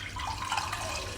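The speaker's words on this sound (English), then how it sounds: "The water will come out from this tube." Water flowing from the tube of a cleaning machine during setup, a steady close trickling and dripping that runs without a break for about a second.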